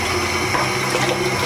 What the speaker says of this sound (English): It's very hard to wash this pot after cooking some alien bread.